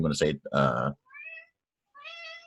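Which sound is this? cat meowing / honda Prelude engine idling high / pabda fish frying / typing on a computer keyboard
cat meowing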